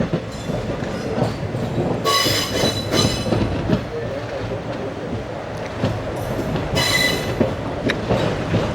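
A train rolls into platform 7 at a railway station, with a steady loud rumble of wheels, rhythmic clickety-clack over rail joints and bursts of high metallic wheel squeal, heard close with no talk over it.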